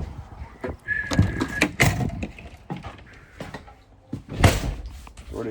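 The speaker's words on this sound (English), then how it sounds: "Door didn't shut." An RV door being pulled shut by hand at a campground, heard as a couple of close knocking thuds and rattles with a faint hum and brief whirring in the background.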